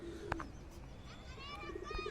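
Pigeons cooing on a rooftop pigeon loft, soft throaty coos rising and falling over quiet background chirps, fairly faint and close, with no talk.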